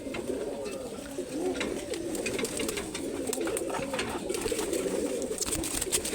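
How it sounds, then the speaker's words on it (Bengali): Pigeons, including a male, cooing repeatedly in a loft, with soft overlapping rolling coos close by and a busy bed of other bird calls and rustling around them. "এটা নর কবুতর, কিন্তু ভালো লাগে।"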